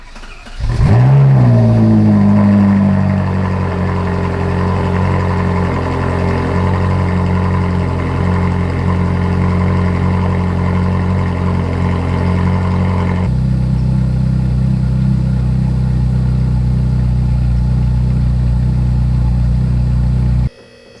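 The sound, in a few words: Ferrari 458 cold start with new exhaust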